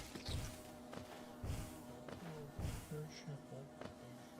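Bees buzz in the video game Hollow Knight, a faint droning hum under muffled thuds and game sounds, quiet and continuous.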